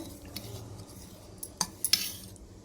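A spoon mixing melted ghee into fenugreek seeds in a small bowl, making quiet scraping with several sharp metallic clinks toward the end.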